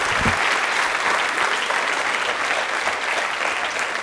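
Studio audience at a college quiz show in Jaipur applauds steadily for two contestants, a dense, even wash of clapping that holds at full strength from start to finish.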